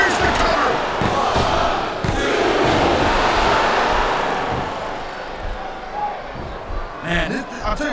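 A roaring arena crowd in the wrestling video game SmackDown vs Raw 2007 cheers loudly and then fades, with thuds and commentary voices running over it.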